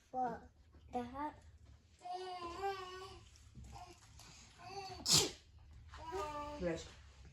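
A single sharp sneeze bursts out midway, loud and close, amid children chattering and talking before and after it during a pumpkin experiment at home.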